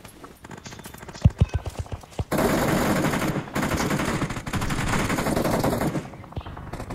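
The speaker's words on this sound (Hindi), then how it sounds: "लो लो लो गन फाइट है" A gunfight in the mobile battle royale game BGMI opens with a quick burst of close gunshots and then a sustained dense roar of rapid fire.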